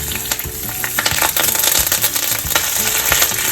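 Mustard seeds, slit chilies and curry leaves crackle and sizzle in warm ghee in a small pan, a steady loud frying hiss with scattered pops throughout.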